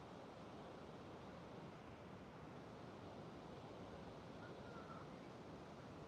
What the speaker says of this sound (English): You can hear the sound of the ocean.